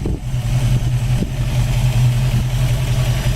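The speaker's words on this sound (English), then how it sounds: "Engine runs great." A 1967 Ford Mustang convertible engine, fitted with Mickey Thompson valve covers, idles loudly and steadily with a deep, even rumble, close up and with no voices.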